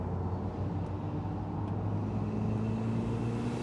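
Turbocharged Mazda MX-5 NC climbing a road, a steady, smooth engine drone with a low, constant hum and faint road noise, unchanging throughout and heard from inside the car.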